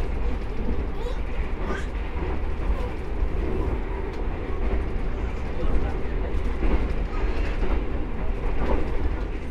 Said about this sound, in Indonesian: jadi sekarang ini perjalanan kereta api Malabar sudah diberangkatkan dari stasiun Madiun